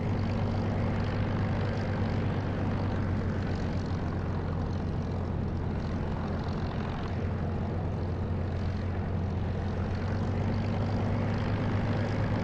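A-20 aircraft taxiing in a flight simulator game, a steady droning propeller engine hum with low tonal bands, continuous and even throughout with no talk.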